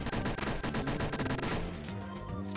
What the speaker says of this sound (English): I can hear it banging outside. It's not a good sign. I can hear rockets. It sounds like rockets.